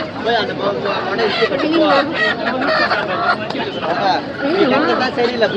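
Chickens cluck and roosters call over a constant babble of people talking nearby at the busy Pallavaram market.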